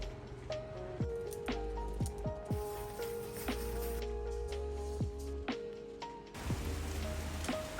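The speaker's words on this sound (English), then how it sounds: "We just made it in before it started bucketing down" Rain falling outside on a cozy autumn morning, a steady soft patter with scattered drops ticking against nearby surfaces, heard from indoors.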